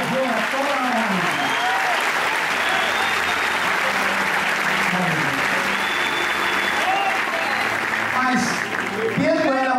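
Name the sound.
church congregation applauding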